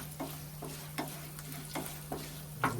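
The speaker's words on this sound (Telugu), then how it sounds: "మంచిగా వేగుతుంది." Tempering for garlic pickle frying in hot oil, a faint steady sizzle broken by a few sharp clicks and taps of stirring, with a constant low hum underneath and no talk.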